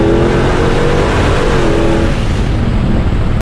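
A 2020 Shelby GT500 with a supercharged 5.2-liter V8 revs hard, loud and close, the engine roaring for a few seconds before easing off at the end.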